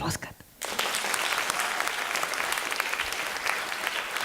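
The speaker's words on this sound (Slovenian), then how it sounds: "Dajte mu zaploskati." A hall audience at a regional sportsman-of-the-year award ceremony breaks into loud, sustained applause for the honoured sportsman Heinz, dense clapping starting abruptly after a brief quiet moment and continuing evenly.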